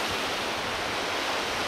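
Sea waves washing onto a beach at six in the morning make a steady, loud, unbroken roar of surf with no voices over it.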